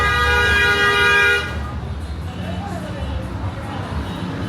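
A car horn blares in one long, steady honk for over a second on a street in Medellin, Colombia, then cuts off, leaving outdoor traffic noise.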